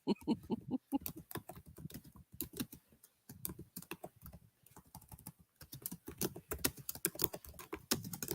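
Fingers type on a computer keyboard in quick, irregular clusters of crisp clicks and taps, close up and steady, with short pauses between bursts of keystrokes.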